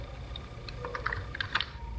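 Typing on a computer keyboard while entering text in CorelDRAW: a run of separate, fairly close key clicks in an irregular rhythm, with no talk.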